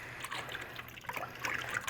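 Water being stirred and mixed into salt dough, with a soft continuous wet trickling and sloshing, close and fairly quiet, with no talk.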